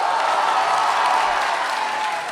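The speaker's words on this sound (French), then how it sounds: "Ça s'applaudit, effectivement, ça s'applaudit" Steady audience applause at a family slam poetry contest, dense sustained clapping from a crowd for a couple of seconds, loud and close, fading slightly at the end.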